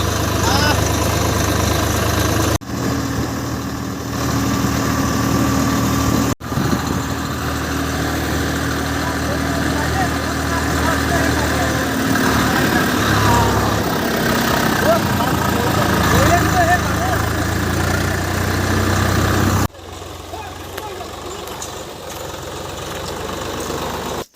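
Tractor engine idling and chugging steadily while riders sit aboard on the way to a Bhogali Bihu picnic, loud and close, with people talking and shouting over the continuous drone and a few abrupt breaks in the sound.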